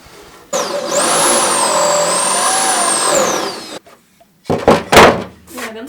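A drill boring through the metal and wood of a roof box: a loud high-pitched whine that rises, holds for about three seconds and stops, then is followed by short clunks and handling noises.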